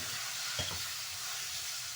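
Tomatoes go into a pan of onions frying to golden for a stuffed bitter gourd mince dish, giving a short sizzling burst over a constant hiss of hot oil.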